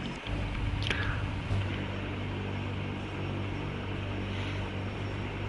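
A propeller airplane engine in War Thunder drones loud and steady with the throttle at zero while the aircraft comes in to land, a continuous close hum with no talk.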